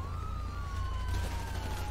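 A video game police car siren sweeps slowly up and down over a low engine rumble, steady and fairly close.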